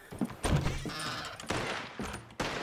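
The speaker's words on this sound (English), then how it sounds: "Who the hell is shooting?" Gunshots ring out in the Red Dead Redemption 2 game, a few sharp, loud cracks spaced unevenly over nearly three seconds, mixed with horse hooves and a whinny in the background.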